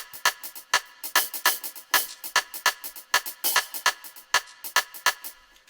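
Dancehall drum pattern played on FPC in FL Studio from an MPD 226 pad controller: crisp, bright hits in a steady syncopated groove, close and loud with no other sounds.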